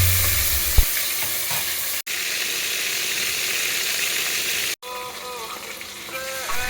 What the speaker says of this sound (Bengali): তো মাংসটি ভেজে নিয়ে আলাদা করলাম